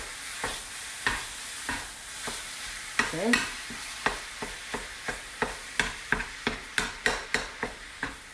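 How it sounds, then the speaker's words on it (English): Ground sausage and hamburger sizzle in a pan while a utensil stirs and chops through them, a steady series of sharp taps and scrapes over continuous frying, with one brief word spoken. "So I can kind of lift it up from the bottom, get that sausage and the hamburger all mixed together."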